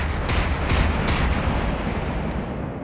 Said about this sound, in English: I'll just call it a shallow cannon.